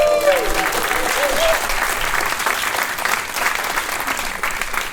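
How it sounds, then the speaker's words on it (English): An audience at a Vancouver AI meetup breaks into loud, dense applause that stays steady for several seconds, with a few voices and whoops mixed into the clapping before it thins slightly toward the end. "Can we give a round of applause?"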